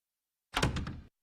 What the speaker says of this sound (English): slam the door.